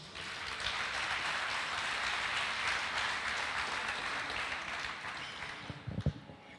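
A church congregation applauds during a Lord's Supper service: steady, dense clapping that holds for about five seconds, then thins into a few scattered claps and thumps.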